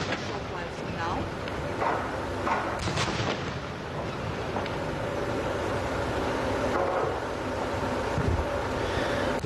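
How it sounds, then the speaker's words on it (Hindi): A 21-gun artillery salute for the President of India at a naval fleet review in Visakhapatnam, heard as repeated loud booms over a dense, constant crowd and outdoor roar, with talk underneath. "Honorable President of India receiving 21 guns live on your screen."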